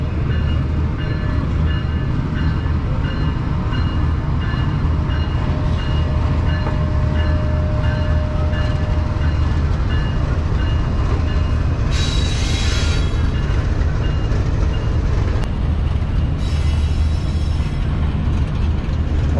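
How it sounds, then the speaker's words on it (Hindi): The Shalimar Express pulls into Khanewal Junction railway station, a loud continuous rumble of train cars and wheels with brief squeals and hiss, and no talking. "GU 49051 शालीमार एक्सप्रेस के साथ आ रहा है।"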